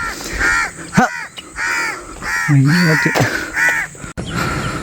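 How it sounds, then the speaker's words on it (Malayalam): Crows caw repeatedly and loudly nearby in an outdoor spot, harsh rasping calls in quick succession, with a voice speaking briefly among them. "കാക്ക കുഞ്ഞുണ്ടെന്ന് തോന്നുന്നു ഗൈസ്"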